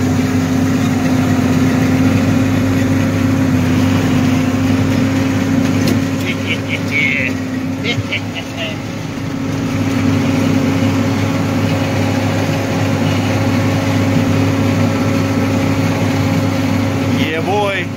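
A 404 turbo engine runs steadily in the snow, a loud continuous low drone with a sustained hum throughout and a brief dip midway. Voices talk over it.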